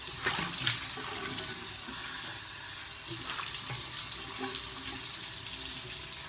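Running water splashing while a face is washed with turmeric soap, a continuous close wash of water with small splashes and no speech.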